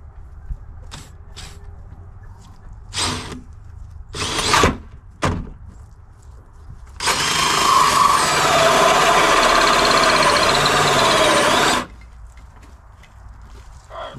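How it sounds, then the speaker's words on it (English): A 4-inch hole saw drills a hole through wood for a chicken coop, heard as a steady, loud grinding whir lasting about five seconds, preceded by several short knocks and clunks. "you're gonna get a 4-inch hole saw and you're gonna drill your hole"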